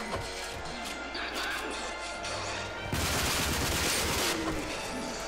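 Gunfire from the video game RAGE comes as rapid bursts of shots and impacts over a dense, loud game soundscape, growing harsher and fuller midway through.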